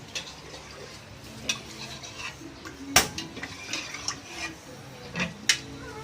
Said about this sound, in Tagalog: Igisa natin yung bawang